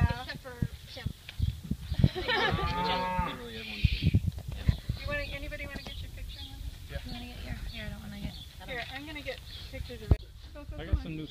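A cow on Miles Smith Farm lowing in drawn-out moos amid other livestock, heard close and loud, with people chatting over and around the calls.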